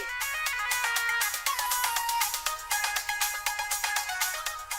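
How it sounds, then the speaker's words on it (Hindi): A bell rings at a home's door in a rapid repeating electronic melody of bright tones, loud and close, with nothing else heard over it. "बेल बज रही है, देखो जाके कौन आया है"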